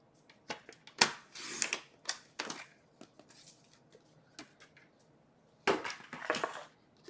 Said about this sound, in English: So I'm just going to trim that ever so slightly.